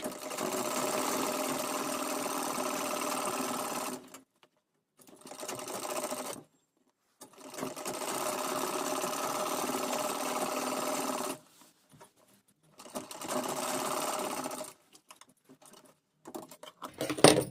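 Domestic sewing machine stitching pleated blouse sleeve fabric, loud close mechanical whirring in several long runs separated by short pauses, with a few quick clicks at the end.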